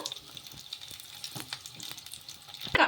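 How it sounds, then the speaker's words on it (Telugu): Snacks fry in hot oil with a close, continuous crackling sizzle full of small pops, ending in a louder sputtering burst. "ఆయిల్లో ఫ్రై అయిపోయిన తర్వాత తీసేసుకోవడమే"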